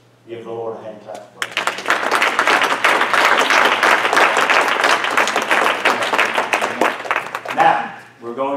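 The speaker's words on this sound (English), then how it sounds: "Give the Lord a hand clap." A church congregation claps hands in loud, sustained applause for several seconds after a preacher's brief speech, then fades as the preacher talks again.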